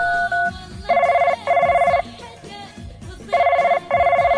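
Telephone ringtone repeating in regular electronic bursts, two long rings, a pause, then two more, loud and close with no one speaking.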